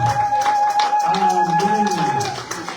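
A church congregation claps in praise of Jesus, a steady patter of hands beneath a sustained organ-like tone and a singing voice, fading toward the end.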